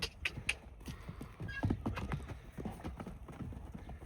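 A mare and her foal walk along with steady clip-clopping hooves, close and fairly quiet, with brief rustles and a faint whinny-like sound in the background.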